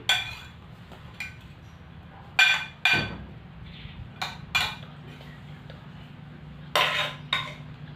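Dishes and cutlery being arranged on a plate while serving Isan-style som tam papaya salad: several sharp separate clinks and clatters of plates and utensils, close and fairly loud, spaced irregularly over a quiet low hum.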